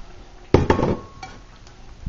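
Cabbage goes into a pot of boiling soup with a metallic clank of utensil against pot and a few clinks, close and brief, followed by quiet bubbling.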